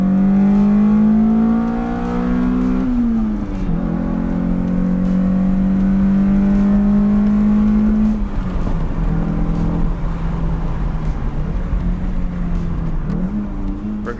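Toyota MR2 SW20 with a Beams engine swap, redlining near 8,000 rpm, roars loudly through hard pulls, its engine note climbing steadily, dropping at each gear change and climbing again, heard close from inside the car.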